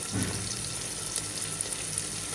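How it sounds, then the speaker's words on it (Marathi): Finely chopped onion hits hot oil with browned fennel seeds for a mutton dish, giving a continuous steady sizzle that is fairly loud and close, with no voices. "आता ब्राऊन आणि बडीशेपला छानसा असा स्मेल येतो. ते झालं की ॲरोमा आला की त्याच्यामध्ये आपण आता कांदा बारीक जो चिरलेला आहे"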